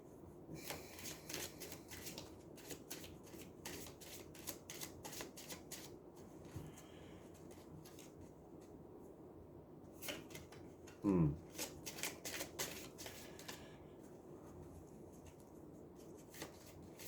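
A Reiki oracle card deck is shuffled again and again in quick, papery riffling bursts, quiet and close by, with short pauses and a brief louder bump in between.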